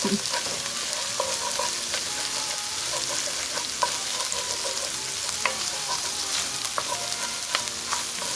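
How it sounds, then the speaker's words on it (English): Tomatoes cook in a hot pan for Cajun chicken and shrimp pasta, a continuous sizzle with frequent light scraping and clacking as a utensil works across the pan bottom, close and without talk. "as I'm cooking the tomatoes, I kind of scrape the bottom of the pan a little bit"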